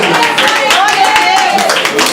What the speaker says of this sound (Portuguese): Essas palmas para mim estão uma bênção. Mais forte, mais forte.